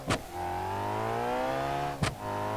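A Civetta Bolide sports car with the VSC package revs in BeamNG.drive, its engine climbing in a steady rising whine between sharp gear-shift bursts, loud and close.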